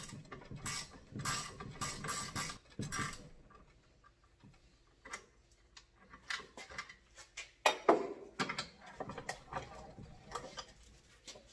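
A wrench turns a reusable hydraulic hose fitting while a thumb presses on top, giving close, irregular ratcheting clicks and metallic ticks in uneven bursts, louder near the start and again toward the end.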